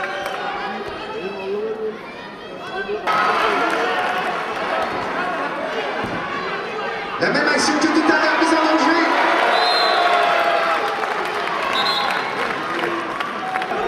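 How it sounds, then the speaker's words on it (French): Audience applauding after a women's team performance at a sporting event, sustained clapping and crowd noise that swells partway through, with a commentator talking over it. "Je crois qu'on peut encore les applaudir"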